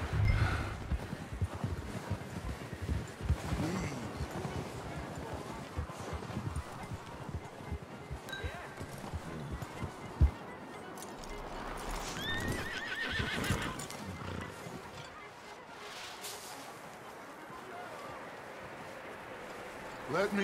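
In the video game Red Dead Redemption 2, horse hooves clip-clop steadily on the ground with an occasional neigh, mixed with rustling and soft ambient noise, fairly faint and close, while voices talk over it.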